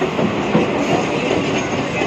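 A train running between Chakdaha and Ranaghat makes a steady, loud, close rumble and rattle from start to finish, with no pauses and no voices.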